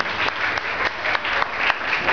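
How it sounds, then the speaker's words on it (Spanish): Audience applauding for a Peruvian marinera dancer from a dance academy, a steady wash of many hands clapping at moderate volume that continues throughout without speech. "Un aplauso para él."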